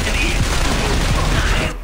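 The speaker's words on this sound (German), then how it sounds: "da waren jetzt überall Schüsse" Rapid gunfire in the video game Splinter Cell Conviction, a dense, loud burst of overlapping shots and mechanical clatter filling nearly two seconds before cutting off abruptly.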